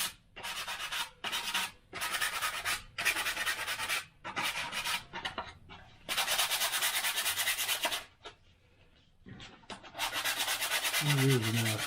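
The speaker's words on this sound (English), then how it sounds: "I'm using what is it, a 180 grit sandpaper to sand off these edges." Repeated rasping strokes of 180-grit sandpaper rubbing an edge on a Wingnut 850 model build, in bursts with short pauses between, close and fairly quiet.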